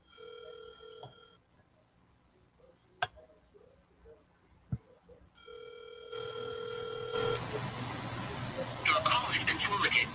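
A telephone line rings in repeated spaced tones during a live podcast call attempt, with a few clicks before it cuts to voicemail, followed by noisy room sound.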